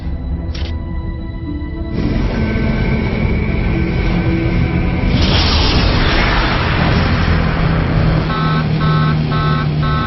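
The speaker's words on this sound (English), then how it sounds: "Collision alarm. We're about to hit." A spaceship collision alarm in Stargate Universe sounds as repeating electronic tones over a loud, continuous rumble of engines and impacts that swells through the middle.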